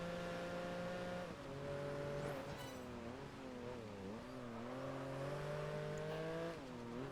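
Porsche 996 rear-engined, rear-wheel-drive car launching in Project Gotham Racing 4, engine note climbing through several gear changes at low level with faint tire noise, no talk.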